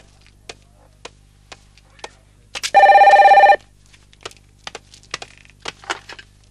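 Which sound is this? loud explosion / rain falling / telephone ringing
telephone ringing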